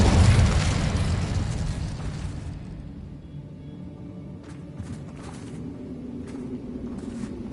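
A loud fiery burst opens the scene as the Incendio fire spell is cast in Hogwarts Legacy. It rumbles and fades over several seconds, then a few faint scattered pops and thumps follow.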